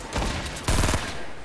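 Rapid gunfire in a Fortnite Battle Royale match, loud bursts of automatic shots stacking into a dense volley close to the player.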